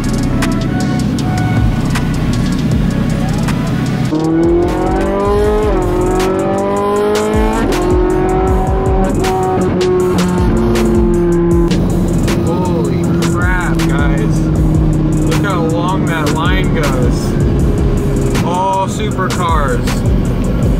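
Supercars driving past on a coastal road, several engines revving and rising in pitch one after another, with sharp popping and rumbling between, loud and close throughout.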